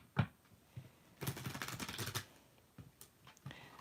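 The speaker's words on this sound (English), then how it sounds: "When the cards give me a hard time to shuffle, Carissa would be like, the cards don't want" Oversized tarot cards being shuffled by hand, quiet riffling bursts and a longer flurry of papery clicks in the middle, close and soft with no talking.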